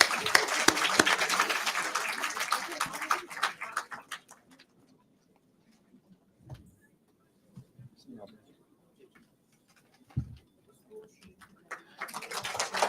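Conference audience at an international maritime gathering claps for roughly four seconds, then the room falls mostly quiet with scattered faint taps and knocks before a fresh burst of clapping starts at the end.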